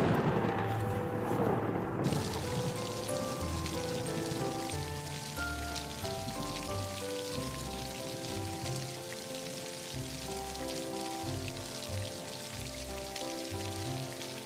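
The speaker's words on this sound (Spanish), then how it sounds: "Y también me gusta la lluvia." Steady rain patters on surfaces throughout, with a dense hiss and scattered drops, plus low rumbling underneath; no talking.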